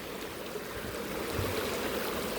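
A river runs past a fishing spot used for spoon-lure casting, giving a steady, even rush of flowing water that stays close and constant throughout, with no voices.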